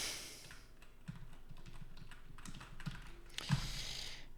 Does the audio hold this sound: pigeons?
no